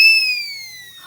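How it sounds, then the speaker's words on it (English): A siren whistle blown once at close range gives a bright, piercing tone that slides steadily downward in pitch over about a second and fades toward the end. "The siren whistle, however, we can't change the sound with our hand."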